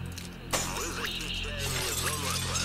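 A dropped item smashes in the S.T.A.L.K.E.R.: Clear Sky video game, a sharp breaking crash that leaps out over a steady low game drone and then fades into the ambient hum.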